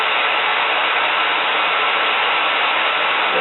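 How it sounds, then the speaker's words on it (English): Hair dryer blowing on a quickweave closure, a loud, steady, close whoosh of air holding constant without pauses, with no talking. "While the hair dryer is going"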